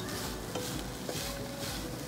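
Jaggery and coconut are stirred in a pan over a medium flame, giving a steady soft sizzle with occasional light scrapes of the spoon, close up and without any voices.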